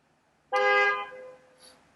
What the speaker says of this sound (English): That car honk came at the most.